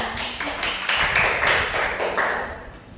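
A classroom of students clapping hands, a short, uneven patter of claps with a few louder, sharper ones, fading out near the end.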